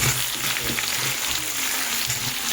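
Potato, papaya and pointed gourd frying in hot oil in a home kitchen, a steady close sizzle broken by the scrape and clatter of stirring, with no talking.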